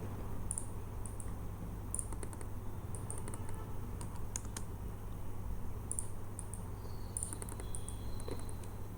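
Keys clicking on a computer keyboard while entering AutoCAD 2021 drafting commands, short bursts of taps with pauses between them, fairly close against a steady low electrical hum and faint background chirping.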